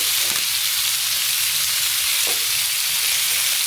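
Loud, continuous sizzling of chicken frying in a pan, close up, with a couple of faint scraping stirs.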